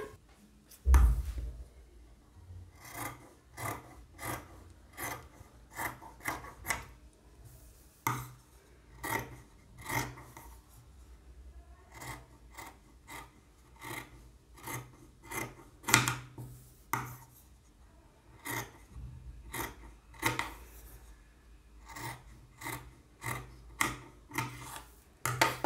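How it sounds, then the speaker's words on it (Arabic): Scissors cut through fabric for a summer dress, a long series of short crisp snips at an uneven pace, close and fairly quiet with no talk. "دابا غادي ناخذ المقص وغادي نقطع."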